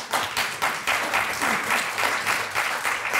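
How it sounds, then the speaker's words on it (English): Steady applause from a crowd at a climate change forum, many hands clapping continuously and fairly loud, with a slight pulsing swell throughout. "definitely deserves a round of applause"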